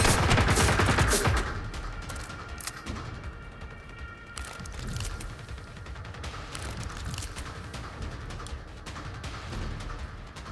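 Robot enemies fire rapid bursts of gunfire in Generation Zero, starting as a loud volley and continuing as quieter, steady crackling shots with mechanical clatter in the background.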